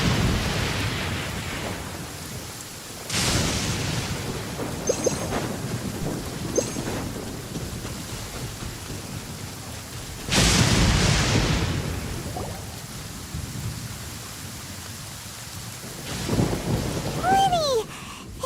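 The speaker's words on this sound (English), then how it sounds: "This heavy rain must be quite an inconvenience for you." Heavy rain pours steadily in a Genshin Impact scene while thunder crashes loud and rolling three times, with a brief higher tone near the end and no talking.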